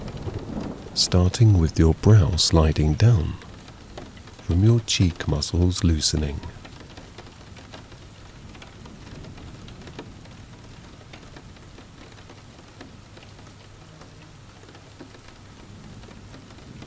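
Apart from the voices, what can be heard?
rain falling during a thunderstorm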